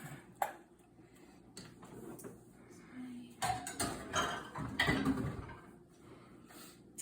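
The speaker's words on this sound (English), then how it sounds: "And we'll keep stirring here." Blueberry lavender jam being stirred in a pot, with a spoon scraping and clinking against the metal in irregular knocks and scrapes, close and moderately loud, with no talking.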